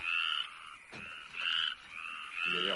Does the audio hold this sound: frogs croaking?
yes